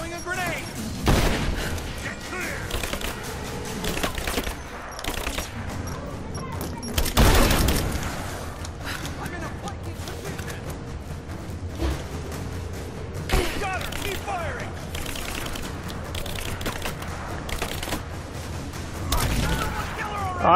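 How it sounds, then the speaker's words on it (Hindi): Grenades explode in Rise of the Tomb Raider gameplay: several sharp booms with bursts of gunfire and crashing debris come at intervals, while someone commentates over the action. "बहुत ग्रेनेड फेंक रहे हैं वहां से"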